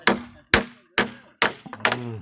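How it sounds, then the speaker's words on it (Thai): Hammer strikes on wooden boards during construction of a house, five sharp knocks at a steady pace of about two per second, close and loud, with a brief tonal ring after the later blows. "อ๋อตอกแป้นเขา"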